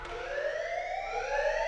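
Alarms blare in the video game Shuten Order, a steady wailing siren with layered rising tones that fills the whole moment without pause and with no voices over it.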